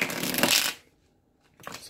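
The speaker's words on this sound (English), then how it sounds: "let's just give your cards a quick shuffle here" Tarot cards riffle in a quick, close shuffle, a dense papery flutter that stops abruptly, then a softer second riffle begins after a short pause.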